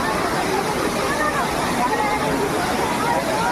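Kola waterfall at Sana Ghagara, Kendujhar, roars as a dense, constant rush of falling water, loud and close, with a crowd's murmur and voices blended underneath.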